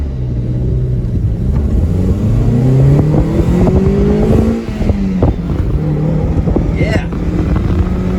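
Toyota MR2 SW30 with a 6-speed manual, engine revving and pulling through gears from inside the cabin, the pitch rising and dipping with shifts, loud and close, with a brief spoken word.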